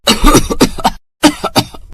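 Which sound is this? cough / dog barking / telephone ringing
cough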